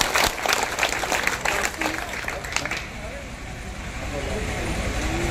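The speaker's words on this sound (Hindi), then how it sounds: "जोरदार ताली बजा के स्वागत करेंगे।" An audience claps loudly to welcome Anita Yadav at a gathering in the Ateli assembly constituency as she is presented with a chunri. The dense clapping fades after about three seconds into murmuring crowd noise.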